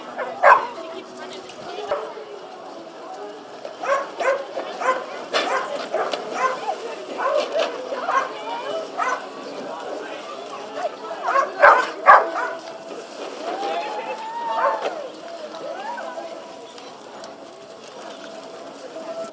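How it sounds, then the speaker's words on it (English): Dogs bark and yip repeatedly at an outdoor puppy pool party held by a charity animal group, with short bursts of barking and some whimpering mixed with people talking nearby and birds in the background. "This is Pepper, and she's down here at the puppy pool party for Maumelle Friends of the Animals."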